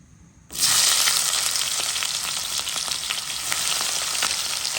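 Food sizzles loudly in a hot frying pan as Cape peas with onion and spices are cooked, a dense, steady crackling hiss that bursts in after a brief quiet start and holds for the rest of the clip with no talk.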